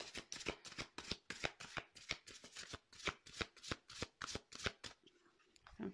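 Tarot cards shuffled by hand in a rapid, crisp riffling rhythm of about twenty quick flicks, close and quiet, ending in a brief pause.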